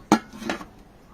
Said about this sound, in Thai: ปิดฝาไว้ก่อน